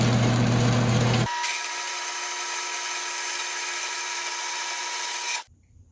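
A power tool cuts a 30-inch length of 1.5-inch steel angle iron for a homemade box anchor, giving a loud grinding start that settles into a steady high whine for several seconds before stopping abruptly.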